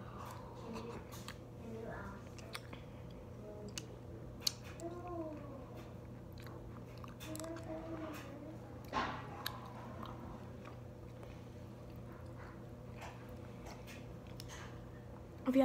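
Soft, chewy Korean rice cakes being chewed: faint, wet mouth clicks and squishy bites scattered over a steady low background hum.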